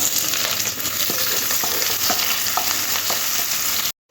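Chopped onion frying in hot oil with bay leaves, dried red chilies and whole cumin in a pan, giving a steady loud sizzle with occasional stirring scrapes, close up and without talk, cutting off abruptly at the end.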